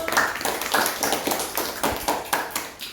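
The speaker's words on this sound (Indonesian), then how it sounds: "Kita berikan aplaus untuk kelompok 1." Applause for a student group in a classroom, a short burst of brisk, close clapping from a small group that fades toward the end.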